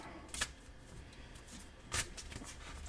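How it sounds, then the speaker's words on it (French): Tarot cards being shuffled in circles on a surface, a soft continuous rustle with two brief louder swishes, quiet and close. "Là, je vous montre un petit peu le brassage des cartes. Donc, les brassages des cartes, il faut les battre en faisant des cercles."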